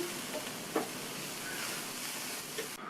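Turnip stir-fry with coconut and chopped coriander leaves stirred in a pan with the stove switched off, a soft steady hiss with a few light spoon scrapes and a brief clink near the start.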